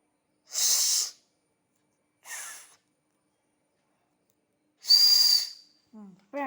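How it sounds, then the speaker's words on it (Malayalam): A whistle blown in three short, breathy bursts with pauses between, the last carrying a thin sustained pitched tone, followed by a brief faint low sound at the end. "വീണ്ടും ഒരു വിസിൽ"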